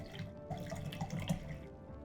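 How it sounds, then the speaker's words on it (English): Liquid pouring into a glass at close range, a short trickling, splashing stream over a couple of seconds, rising slightly in the middle before easing off. "I'm gonna pour myself a drink."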